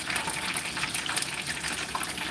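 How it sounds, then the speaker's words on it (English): Tabasco sauce and wine vinegar being poured for a buffalo wing sauce, a brief steady gushing, splashing liquid stream heard close up without pause. "Gonna pour your Tabasco sauce and the wine vinegar"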